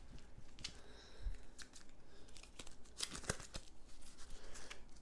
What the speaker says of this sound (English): and then shuffling the deck